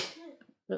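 A short sneeze bursts out, a sharp breathy release, then after a brief pause a second quick burst of sound follows nearby.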